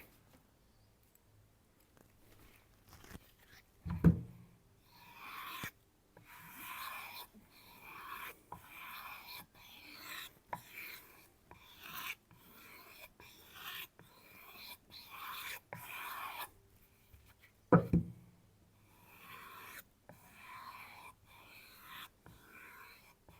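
Steel knife blade drawn repeatedly across a Tormek Blackstone sharpening stone, a series of short, soft rasping strokes in a steady rhythm, close and quiet, with a couple of louder knocks along the way.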